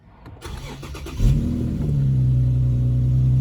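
An Infiniti M37 V6 engine cranks and catches, then runs with a deep, steady rumble that swells slightly as it revs, close and loud, with a sound like an exhaust leak.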